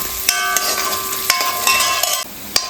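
Ingredients fry in a pan while being stirred toward browning, a steady close sizzle punctuated by several sharp scraping clacks of the spoon against the pan at irregular intervals.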